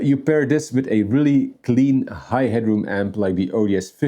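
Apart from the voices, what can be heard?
No everyday noise stands out behind the speech.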